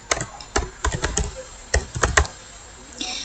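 Keystrokes on a computer keyboard as an email address is entered, clicking in short irregular bursts with brief pauses, close and clear.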